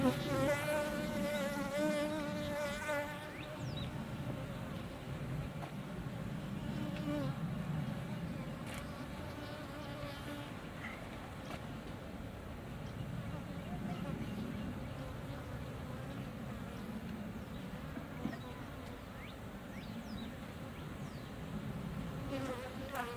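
Honeybees hum in an open beehive as boxes are handled, a dense, steady buzzing close by throughout, with speech heard over it at times.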